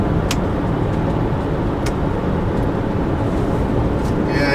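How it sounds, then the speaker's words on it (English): A car approaches along a road at night, heard as a steady, loud broadband rumble of engine and tire noise that fills the whole stretch without pause. "I got a car coming"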